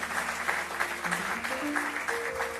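A church congregation at a Lisbon Sunday service claps for the children's ministry teachers, a steady moderate round of applause with musical tones sounding underneath.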